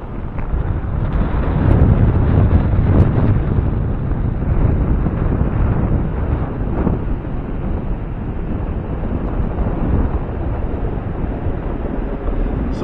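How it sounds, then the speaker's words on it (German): Steady, blustery moderate wind buffets the microphone on a sunny beach at Maspalomas, Gran Canaria, a continuous low roar with gusts and faint rumble of small waves, no voices. "wir haben hier mäßigen Wind"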